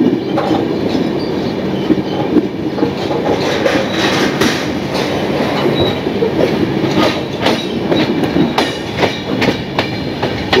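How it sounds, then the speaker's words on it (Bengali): The Saraighat Express running on the Howrah to Guwahati line, a loud, continuous rumble of railcars with rhythmic clickety-clack of wheels over rail joints, heard close from on board. "আশা করি ট্রেন এখানে দাঁড়াবে না"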